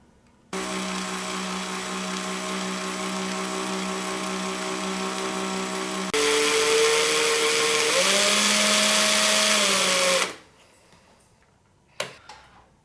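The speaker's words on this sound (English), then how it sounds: "I just kind of reverse the direction of the drill and pull it on out." An electric drill winding coil wire for a heating element whirs steadily for several seconds, its pitch shifting midway as it runs, then winds down and stops, followed by a brief click.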